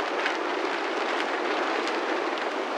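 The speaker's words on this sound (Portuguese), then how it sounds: "está chovendo aqui na Caatinga" Rain falls steadily in the dry Caatinga scrubland, a dense, even hiss that stays close and unbroken throughout, with no voices.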